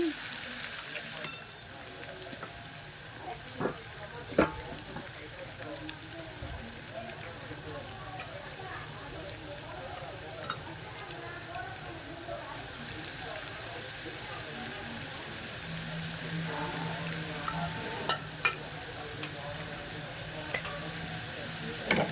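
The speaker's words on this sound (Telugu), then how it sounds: "ఉప్పు పసుపుని మంచిగా నూనెలో ఫ్రై అవ్వనివ్వాలి కాకరకాయని మంచిగా బ్రౌనిష్ వచ్చేదాకా" Bitter gourd pieces with turmeric and salt fry in oil, a steady close sizzle running throughout with occasional stirring clinks, while a person talks over it.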